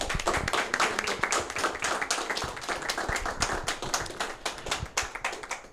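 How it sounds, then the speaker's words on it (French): Audience applause for a guest presenter at a retro 8-bit gaming event, a dense run of many hands clapping close by, sustained and fairly loud with sharp individual claps throughout. "Je pense qu'on peut l'applaudir encore une fois quand même."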